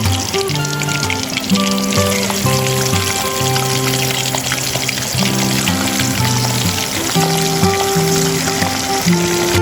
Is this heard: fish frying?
yes